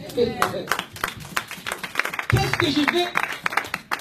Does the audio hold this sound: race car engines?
no